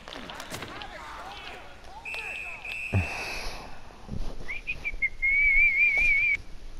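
Person whistling a sustained, wavering tune during an NHL 21 video game session, close and fairly loud, joined by a shorter whistled note earlier, with talk and game noise in the background.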